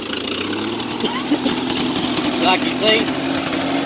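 A Farmall C tractor in third gear at light throttle pulls an Oliver plow, its engine running as a steady mid-pitched drone throughout, with someone speaking briefly over it and some faint squeaks.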